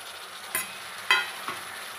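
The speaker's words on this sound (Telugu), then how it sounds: "టమాటా ఉడుకుతుందండి." Chopped tomatoes cooking with turmeric and salt in a pan of chicken curry, a soft steady sizzle broken by three short stirring scrapes, quiet and close.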